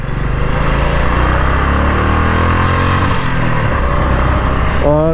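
A Royal Enfield Electra Bullet 350 motorcycle, an old bike in need of work, with its engine running loud and steady throughout, ending in a rising rev near the finish.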